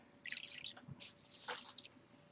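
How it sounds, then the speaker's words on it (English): Brief close splashes and drips of water poured into a mixture, a couple of short wet bursts, quiet with no talking. "And then I'm pouring some water in."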